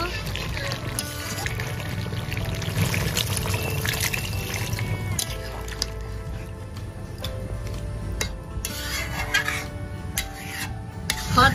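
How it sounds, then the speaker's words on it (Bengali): A steady pour of water into a pot of buffalo meat with a rushing, hissing splash, continuous for several seconds, close and fairly loud. "এখানে এবার পানি দিয়ে দেব।"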